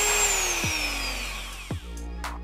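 A Dremel 3000 rotary tool whines steadily at close range, its high pitch sliding downward as the variable speed is changed, with two brief bumps partway through and a fainter rising whine near the end.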